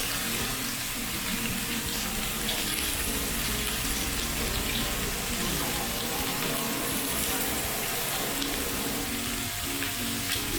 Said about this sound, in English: run them under a light drizzle of water